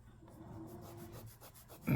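A fingertip rubs back and forth over failing tile grout that is one year old, making a soft, close, gritty scraping that repeats steadily, with a louder scuff at the end.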